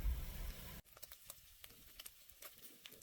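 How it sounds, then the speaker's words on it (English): Onion frying in bacon fat in a cast iron pan, a faint steady sizzle with scattered soft pops and crackles, after a short burst of louder noise at the start, no voices. "I wanted to get it cooked pretty good in the bacon fat"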